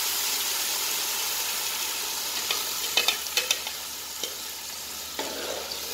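Masala for a chicken curry sizzles and fries in a pan under a steady hiss, with a few sharp scrapes and clicks of a spoon stirring it partway through; no talking.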